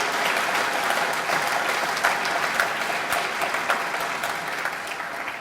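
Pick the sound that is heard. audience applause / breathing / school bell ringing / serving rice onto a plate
audience applause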